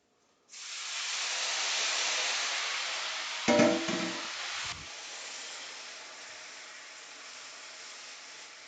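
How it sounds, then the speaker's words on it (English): Tofu noodles sizzle loudly in a hot pan as they are tossed Italian-style. A strong, steady hiss starts abruptly, a brief clatter of tossing cuts in midway, and the sizzle then eases slightly. "They sizzle a lot."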